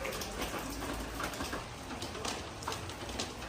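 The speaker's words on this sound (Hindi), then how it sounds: "एकदम से बारिश आई है" Steady rain falls outdoors at a new house, a dense even hiss with scattered drip accents and a faint bird cooing behind it.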